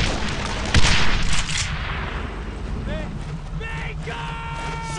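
Gunfire from a World War II battle in Brothers in Arms: Road to Hill 30, a loud burst of shots and booms early on, followed by shouting soldiers and ringing tones over steady battle noise.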